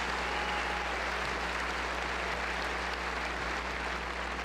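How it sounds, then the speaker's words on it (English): Steady, sustained applause from a large audience at a university spring commencement ceremony, dense and even throughout with no break. "Would you please join me in one more round of applause"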